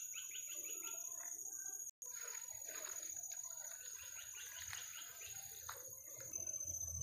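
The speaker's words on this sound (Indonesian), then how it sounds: "Banyak burung kawan." Several birds chirp and tweet in a forest among rambutan trees, faint and somewhat distant, with repeated short calls over soft ambient background.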